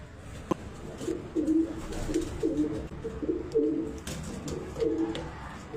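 Domestic racing pigeons on a rooftop coo in a series of soft, repeated low calls, close and fairly steady, with no talking.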